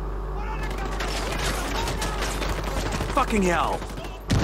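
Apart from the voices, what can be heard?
gunfire in the video game Ghost Recon Wildlands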